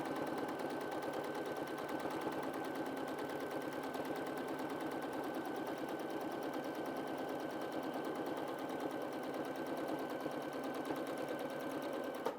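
Sewing machine stitching free-motion squiggles on a Dresden Snowflake quilt block without a stitch regulator, a fast, even, continuous mechanical chatter that stays steady throughout.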